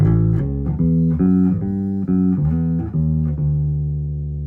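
Lakland Skyline Geezer Butler signature four-string passive bass plucked fingerstyle on its P-bass pickup, with the jazz pickup rolled slightly off; a steady run of round, sustained low notes played alone with clear attacks.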